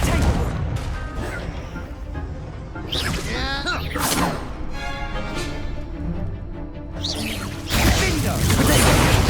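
Confringo blasting spells and other spell hits in the video game Hogwarts Legacy: a loud, busy combat mix of crashing blasts, swooshes and thuds, with a heavy burst near the end and a voice heard at times.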